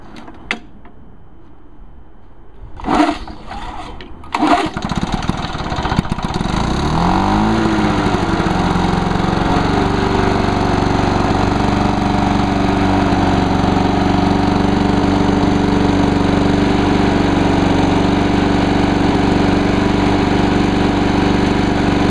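A few clicks and pulls, then a small lawn mower engine with a 21-inch steel economy deck sputters to life and settles into a loud, steady drone that runs on without a break.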